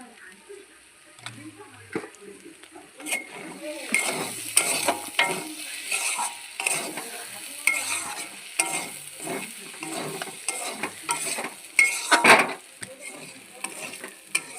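Khesari lentil curry being stirred in a pan, a steady scraping and swishing with a light sizzle from frying, continuing in gentle irregular strokes throughout with occasional louder clatters.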